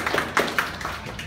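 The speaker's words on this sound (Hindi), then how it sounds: "एक ज़ोरदार ताली जनाब नाज़िम इजलास के लिए।" A crowd at a formal gathering claps loudly in a short burst of applause, with sharp overlapping hand claps close by and no talking.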